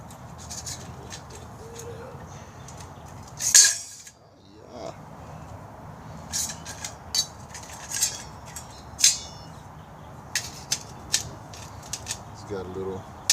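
Metal camp stove pots and pans from a bushcraft kit are handled: scattered light clanks and scrapes, some sharper clinks, over a quiet background hum.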